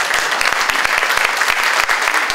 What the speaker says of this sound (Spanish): Martín Venegas, un fuerte aplauso para él.